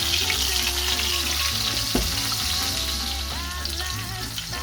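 Garlic bread crisping in a pan, a continuous close frying hiss with a brief scrape midway as a piece is turned over, steady and moderately loud.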